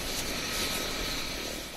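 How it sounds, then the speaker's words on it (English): Air Force Mi-17 helicopter on a flood rescue mission in Kashmir, a loud, steady, close rotor and engine roar with no break and no talk. "As the Mi-17 helicopter gets loaded again"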